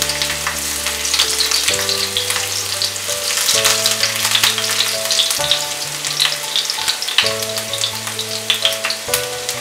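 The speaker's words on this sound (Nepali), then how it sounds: "अब म चाहिँ सेम प्यान र सेम तेलमा म राख्दैछु 4-5वटा जति लसुनको पोटे र 1 इन्च अदुवाको टुक्रा।" Four or five garlic cloves and an inch of ginger cut into long pieces sizzle in hot oil in a pan, a continuous loud crackle with occasional stirring scrapes.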